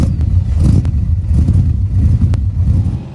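A Dax 427 Cobra's deep V8 engine rumbles loudly and close, with a low burbling rev that holds steady before easing off at the end.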